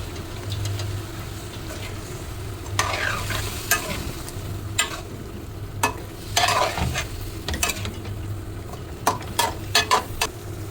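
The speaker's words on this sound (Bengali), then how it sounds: "তো এই ফুলকপির তরকারি আমি খাবো," Cauliflower curry cooked with small puti fish is stirred in a pan, with soft scraping strokes and bursts of sizzling frying over a low steady hum, fairly faint and close, with no one talking.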